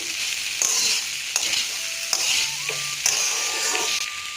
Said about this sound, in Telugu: ఇది కూడా ఒకటి 2 సార్లు కలుపుకొని కొంచెం మెంతికూర కొంచెం అయితే మగ్గాలి